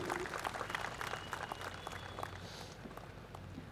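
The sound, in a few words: applause for award winners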